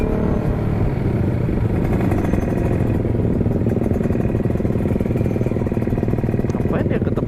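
A Honda CBR250R motorcycle engine runs steadily nearby, a rough mid-pitched rumble that stays constant, with a voice briefly heard over it.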